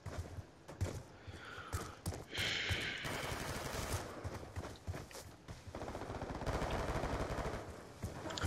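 Rapid automatic gunfire from a teammate in Black Ops 2, loud bursts of shots crackling close by with brief gaps, ending in a sustained volley.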